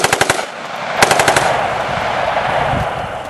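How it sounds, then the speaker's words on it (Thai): Two loud bursts of rapid automatic gunfire, sharp shots in quick succession, each followed by a rumbling echo that lingers and fades. "เสียงปืนก็ดังรัวขึ้นมา"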